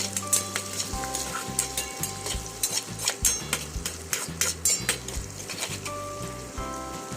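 Chopped onions being sautéed in a pan until reddish, with steady spatula scrapes and light sizzle close by, set against continuous background music.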